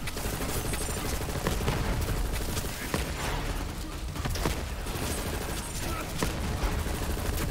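Rapid, heavy gunfire from Borderlands 3, played as Zane, fills the whole stretch with dense overlapping shots and booms, loud and continuous with almost no gaps.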